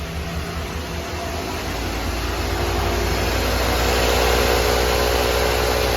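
A cold 1985 Ford F150 engine fires and settles into a steady, loud idle, with a dense rumbling drone and faint mechanical vibration that grows slightly louder toward the end.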